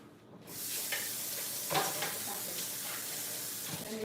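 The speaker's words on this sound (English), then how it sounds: "So we're going to the pot now to put the onions in." Onions go into a hot pot for a fish stew and sizzle steadily up close, a hissing fry with a few louder crackles and some stirring, continuing without pause.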